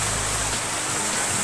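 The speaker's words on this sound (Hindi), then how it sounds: "ये दूध धारा का झरना है" Doodh Dhara waterfall at Amarkantak pours in a steady, loud broadband rush of falling water, continuous and close throughout with no voices.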